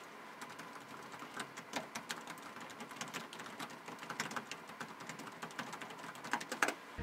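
Fingers type on the keyboard of an HP Pavilion Aero 13 laptop, whose keys feel distinct and are fairly loud. A quick, steady stream of close key clicks continues unbroken for several seconds.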